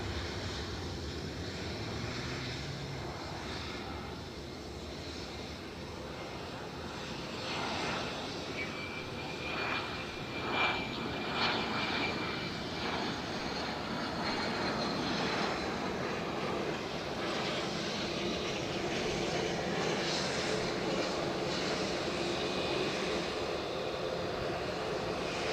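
An inbound Cessna Citation 560 XL business jet lands at Edinburgh Airport, its engines a sustained moderate roar that slowly builds and stays steady for over twenty seconds, consistent with the bucket thrust reverser working.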